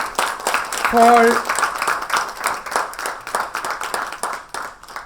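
At an award ceremony for an Indian food writing prize, an audience breaks into a round of clapping that continues steadily throughout, crisp and moderately loud, with a brief voice heard early on.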